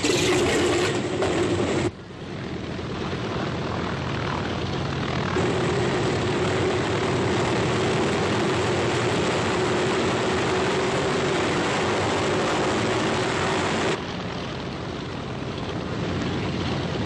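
Hundreds of propeller-driven C-47 transports carrying paratroopers fly in a large formation, a loud continuous engine drone that stays steady throughout with no one talking.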